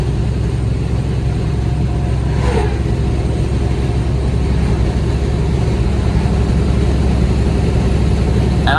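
A Peterbilt 379 truck hauls a heavy step-deck trailer loaded with a die, its engine a loud, steady low-pitched drone pulling hard on the road with constant rumble and road noise throughout, and no talk.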